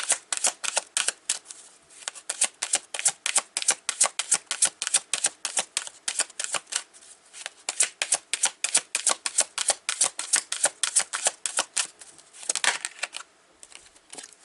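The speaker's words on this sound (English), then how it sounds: "Okay, let's pull more cards. Let's pull some more." Tarot cards being shuffled and pulled from a deck, a long run of crisp, fast card flicks and riffles, close and fairly soft, with a short break near the end and no talking.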